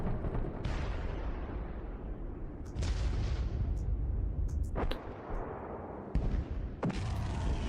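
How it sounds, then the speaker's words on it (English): Explosion effects from a sci-fi tabletop game session rumble as dense, loud booms, with several sharp blasts striking in sequence over a continuous roaring background. "Should be an explosion happening there."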